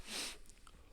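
A single sharp sneeze from a player at a live tabletop role-playing game session: a short, breathy burst that fades quickly into near silence.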